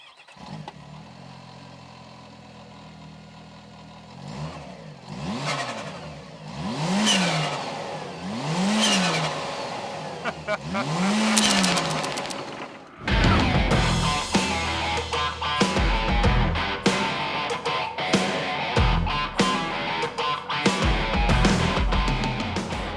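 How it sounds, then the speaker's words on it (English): A 2026 Kawasaki Teryx5 H2's supercharged engine revs, climbing and falling in repeated bursts, then settles into a loud, rough idle with sharp chattering pops from the supercharger blow-off valve. "this engine makes some pretty crazy sounds, especially that blow-off valve on the supercharger"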